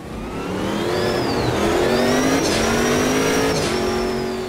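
Race car engine roaring at the start of a rolling race in Automobilista 2, pitch climbing steadily through several gear changes with a sustained loud drone and faint higher whine, no voices.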